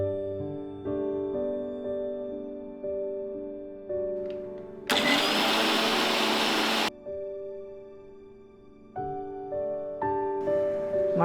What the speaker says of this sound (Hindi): इन चीज़ों को दोबारा से ग्राइंड करेंगे हम